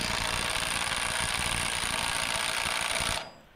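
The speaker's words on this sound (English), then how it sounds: "Thread that in by hand and then hit it with the impact" An impact wrench drives the bolt and washer that hold a gear inside the gearbox of a King Kutter 5' PTO rotary tiller. It gives one loud, steady burst of about three seconds, then cuts off abruptly.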